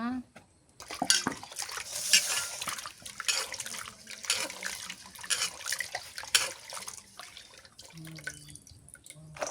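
Potatoes being washed in water in a rural Bangladeshi kitchen, with drips, splashes and clattering of a pot or bowl in irregular bursts, fairly close, while someone talks intermittently.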